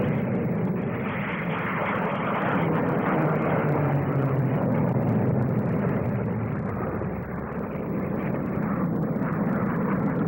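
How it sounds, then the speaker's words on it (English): Hawker Sea Hawk jets of a Navy aerobatic team roar overhead at the 1958 Farnborough air display, a steady, loud broadband engine rush that fills the whole stretch without a break. "Sheer spectacle, the Navy's aerobatic team of Seahawks."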